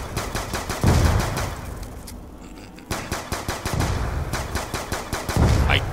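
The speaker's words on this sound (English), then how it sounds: "I love hearing the sound of the Pack-a-Punch pistol" In Black Ops 2 zombies on the Town map, a Pack-a-Punched pistol fires in rapid, loud, close bursts of punchy shots, broken by a brief pause before the firing resumes.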